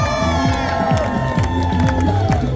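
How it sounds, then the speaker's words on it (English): A street audience at a Waikiki dance show cheers, whoops and shouts loudly for a dancer, a dense continuous crowd roar with children's voices, close and sustained throughout. "Make some noise for him."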